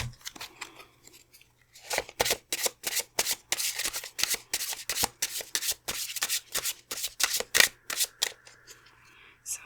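Tarot cards shuffled and picked by hand during a card reading, a dense run of rapid riffling and rubbing strokes, close and crisp, with a faint low hum in the background.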